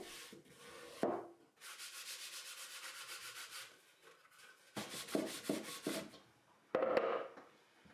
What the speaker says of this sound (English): use a microfiber cloth to buff it all off